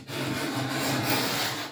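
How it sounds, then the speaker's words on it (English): A hand scraper stripping varnish off wood, one continuous close rasping scrape lasting under two seconds, loud and alone. "I'm using our new scraper to get rid of the varnish"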